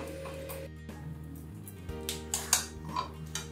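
A metal lid is set onto a cooking pot of bottle gourd and moong dal, making a few light clinks and taps over a steady kitchen hum, fairly quiet and close.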